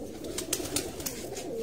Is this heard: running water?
no